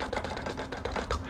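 Fast, irregular keyboard typing clatters continuously for a moment, the keystrokes close and fairly loud with no voice over them.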